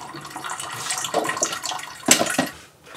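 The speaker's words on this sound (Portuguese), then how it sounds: "A água demora um pouco mais porque tem que pegar da água filtrada pra cachorra." Filtered water is poured aboard a sailboat for a dog's drinking bowl, a splashing, running stream that swells and peaks with a few louder gushes before tapering off, with no talk over it.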